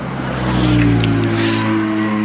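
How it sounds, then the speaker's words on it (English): Porsche race cars wind their way down the Shelsley Walsh hill climb course, one engine droning loudly and close with a steady tonal whine that swells and eases, no talking heard. "last of these Porsches are winding their way down the hill"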